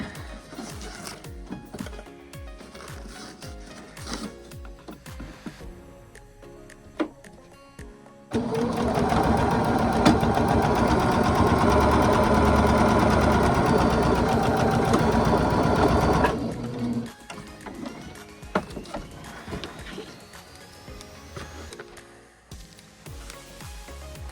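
A sewing machine stitches a seam in one continuous loud burst of rapid whirring lasting several seconds, framed by quieter handling noises and clicks before and after.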